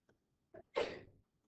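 A single sharp sneeze, with a couple of short intake breaths just before it, close and fairly loud in an otherwise quiet room.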